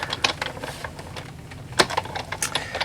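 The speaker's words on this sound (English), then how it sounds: "we're just going to go ahead and run this through the machine to first cut" A die cutting machine presses paper through a rectangle die, giving a run of close, irregular mechanical clicks and rattles with one sharper snap near the middle, with no talking.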